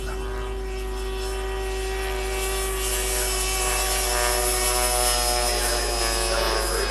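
Loud, steady high-pitched whine of a model jet's turbine engine, a T-33 replica, growing slightly louder and brighter as it passes nearby.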